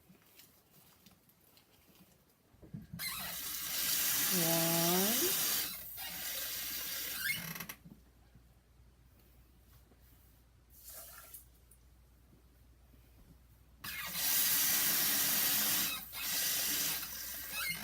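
Tap water runs into a kitchen pot to cook rice, a steady rushing stream that starts, stops, then flows again in two loud bursts with quiet pauses between.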